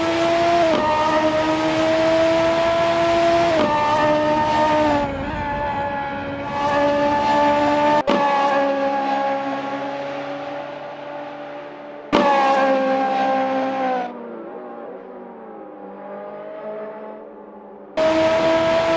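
Radical SR3 race car in Assetto Corsa, its engine a loud, close, high-pitched buzzing whine that climbs steadily through the revs, cuts abruptly at each gear change, then drops to a quieter idle before roaring back.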